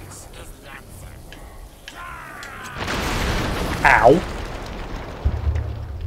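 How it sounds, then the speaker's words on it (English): A booming explosion blows apart wooden debris in the video game The Darkness, a broadband blast swelling midway and tailing off under game ambience, with someone briefly speaking. "all I did was blow up a few bits of wood. Little speech, explosion."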